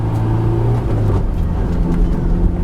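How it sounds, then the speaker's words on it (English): A 2004 Honda S2000 AP2 with its F20C engine pulls hard in third gear, the exhaust droning loud and steady close by, with no talk. "the exhaust screams. Put it in third."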